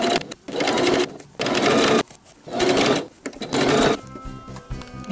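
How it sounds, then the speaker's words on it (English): Sewing machine stitching a half-inch seam on a tote bag, running in four loud bursts of rapid stitching separated by short pauses, including back-tacking, with softer mechanical clicks at the end. "Now we're ready to sew our 1/2 inch seam allowance."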